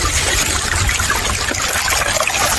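River water rushes and trickles close by as gold-bearing material is run through a sluice in the river, a dense continuous wash with no voices.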